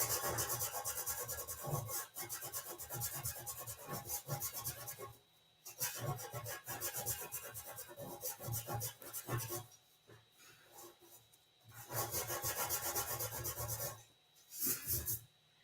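Abrasive rubbing of 180-grit sandpaper across metal to give a brushed finish, steady rasping strokes in long runs broken by short pauses.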